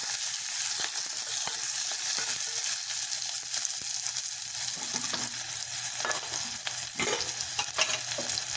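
Two large onions sauté in a pan with a continuous, fairly quiet sizzle, marked by occasional small crackles and faint clinks of stirring, and no voices.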